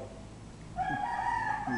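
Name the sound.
rooster crowing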